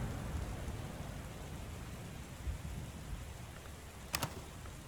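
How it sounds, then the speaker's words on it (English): Steady rain patters over a low rumble of thunder in the game Book of Hours, soft and continuous, with a couple of brief sharp ticks near the end. "Storm."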